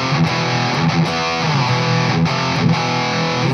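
Loud, heavily distorted LTD Deluxe M-1000 electric guitar playing a riff of rhythmic chords with sharp attacks, continuous throughout.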